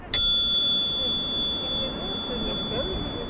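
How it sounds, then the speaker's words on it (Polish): A handlebar bell on a Mad Bicycles electric cruiser gives one bright, close ding at the start, its clear metallic ring slowly decaying beneath a faint room hum. "Tu mamy piękny dzwonek."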